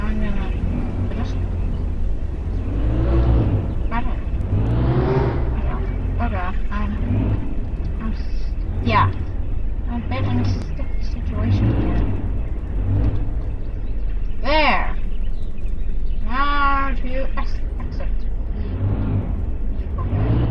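A car engine in the Roblox game Jailbreak hums and revs softly in the background under almost continuous close talking from a player.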